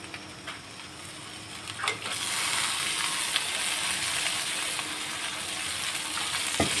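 Small river fish drop into a pan of hot oil; a quiet stretch gives way to a loud, steady sizzle of frying that continues with faint stirring clinks.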